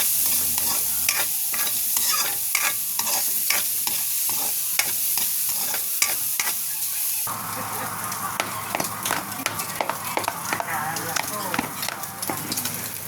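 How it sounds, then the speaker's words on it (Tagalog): Spam fries and is stirred in a pan for egg fried rice, with a continuous sizzle broken by rapid scraping and clacking strokes of a utensil, close and loud, the frying growing fuller partway through while a voice talks over it. "Lutuin na natin yung spam."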